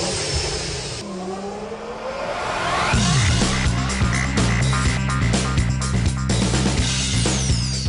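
An all-new Skoda Laura RS performance car revs loudly, its engine note climbing and falling in repeated strong bursts after a quieter opening, close and dominant with no talk.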